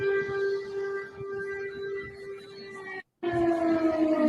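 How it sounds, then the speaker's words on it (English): Air raid sirens wail over Kyiv, a loud sustained tone with harmonics that dips and holds, briefly cut off before resuming, with faint background noise and no voices. "You can hear the sirens in the background."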